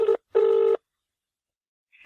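Telephone keypad tones sound as a number is dialed on a phone: two clear beeps, the second longer, then a gap before another tone begins, loud and close.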